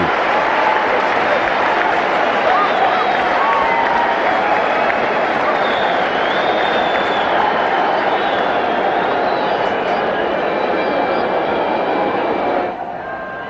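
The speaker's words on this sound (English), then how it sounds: "a lot of people in the stand standing up and applauding" At a cricket stadium during the India vs West Indies one-day international in Ahmedabad, a huge crowd stands and applauds, a dense, loud, sustained wash of clapping and cheering that drops off at the very end.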